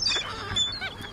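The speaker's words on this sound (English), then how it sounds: "Hunter, it's like we have a freaking family of ducks." A family of ducks makes honking, goose-like calls, with several overlapping squawks close by over a short stretch amid outdoor background noise.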